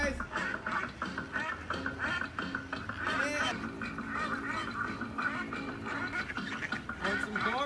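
A crowd of ducks quacks in chorus, dense overlapping calls filling the scene throughout, mixed with people talking and background activity nearby.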